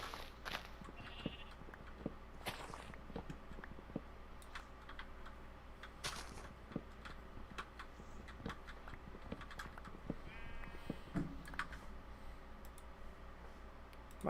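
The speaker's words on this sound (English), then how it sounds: "I like the sound of the keyboard" A computer keyboard is typed on during a Minecraft stream, giving scattered, quiet clicks and clacks over a low steady hum, with irregular bursts of keystrokes.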